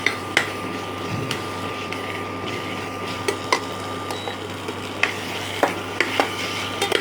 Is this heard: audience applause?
no